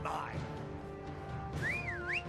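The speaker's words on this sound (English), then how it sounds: "I whistle for my horse" A single rising-and-falling whistle rings out near the end to call a horse in Skyrim, a clear melodic tone heard over a player's speech and low game ambience.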